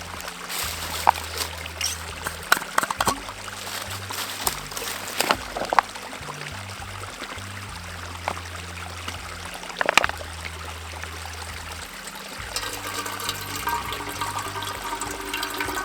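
Water trickling and streaming steadily through a mini squeeze water filter, with intermittent squeezing, sloshing and plastic crinkles, close and continuous, while camping.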